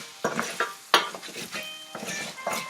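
Orzo toasting in butter in a pan while being stirred, a steady soft sizzle broken by several scraping stirs of a utensil against the pan, close and moderately loud with no voices.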